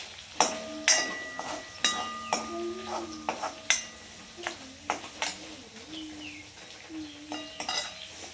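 A spoon stirs and roasts ginger-garlic paste with curry leaves in a pan for Gujarati dal dhokli, giving repeated metallic clinks and scrapes in an irregular rhythm, with soft whistling or bird-like tones in the background.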